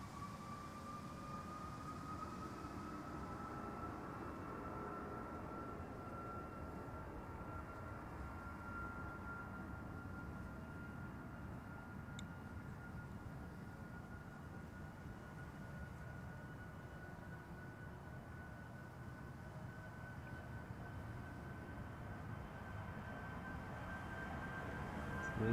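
A Turkish Airlines airplane at Amsterdam Schiphol Airport rumbles faintly at a distance with a steady engine drone and a slowly rising whine that swells slightly at the end.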